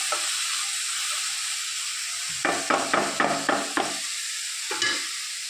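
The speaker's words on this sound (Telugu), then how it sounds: "టమాటో కూడా వేసుకొని ఇవన్నీ బాగా ఫ్రై చేసుకోవాలి" Tomatoes and other vegetables fry in a pan, a steady sizzle running throughout while a utensil scrapes and stirs in a quick run of knocks midway, then once more near the end.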